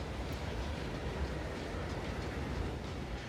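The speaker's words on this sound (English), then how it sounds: "if you stand in front of that train, it will absolutely kill you" A train rumbles past up close on an old-town street in the video game Neverness to Everness, a steady, loud, dense roar with faint clatter running throughout and no voices.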